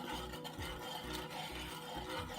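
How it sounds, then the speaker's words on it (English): A spoon stirs sugar, cornstarch and water together in a pot, producing a repeated rhythmic scraping and rubbing against the pot, close by and steady, with no talking. "I'm going to stir all this together."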